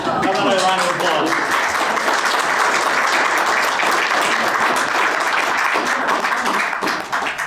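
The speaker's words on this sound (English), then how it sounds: "How about a round of applause?" An audience applauds after a history center presentation, a loud, dense burst of clapping at close range that holds steady for several seconds, with a voice briefly audible at the start.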